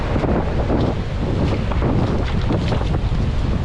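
Strong wind roars and buffets the microphone steadily, a loud, constant rushing noise that sounds like a boat moving over open water.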